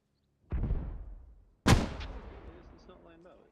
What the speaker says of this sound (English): So there's mortars coming in.